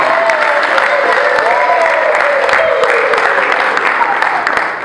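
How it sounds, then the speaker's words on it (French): A crowd at a family 50th-birthday surprise party applauds for the celebrant's parents, a loud, sustained wash of clapping with a few voices and a drawn-out tone running underneath. "On applaudit encore pour ses parents."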